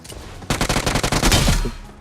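Rapid automatic gunfire in the mobile battle royale game BGMI, a dense burst of shots lasting over a second after a brief quieter lead-in, loud and close.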